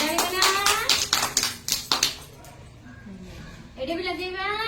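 Children in a classroom clap in a quick burst of sharp, uneven claps mixed with a teacher's voice, then the clapping fades into a quieter stretch before talking resumes.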